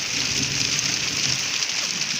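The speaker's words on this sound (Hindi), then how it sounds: "इधर बारिश देखें कितना माशाल्लाह अच्छी अच्छी सी आ रही है" Steady rain falls outdoors, an even hiss of drops on surfaces at moderate loudness with no talking.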